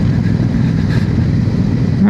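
A motorcycle riding through the village of Cheddar near Cheddar Gorge, a loud, steady low engine drone mixed with rushing wind noise and no clear changes in pitch.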